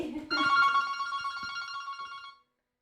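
A telephone bell rings indoors at a saddle-making workshop, a bright jangling burst at moderate level that fades out over about two seconds, with faint background noise beneath.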